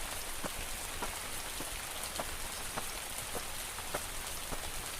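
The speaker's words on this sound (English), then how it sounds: "Right now, the rain is pretty steady, not dramatically so, but consistent." Steady rain falls in a Pacific Northwest forest at Sol Duc Falls in Olympic National Park, a constant soft hiss with distinct drops pattering at a regular pace, alone and fairly quiet.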